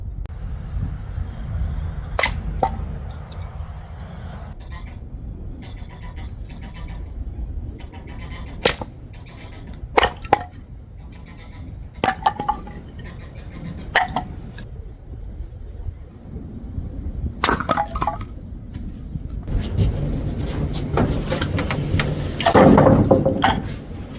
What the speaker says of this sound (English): We always keep our camp axe handy here just for these types of situations